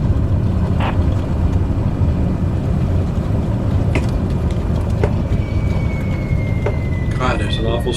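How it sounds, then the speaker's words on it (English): Strong wind in Flight Simulator 2020, a steady loud broadband roar filling the whole clip at a Cessna on the ground, with a few faint higher tones and brief clicks scattered over it. "there's an awful strong wind"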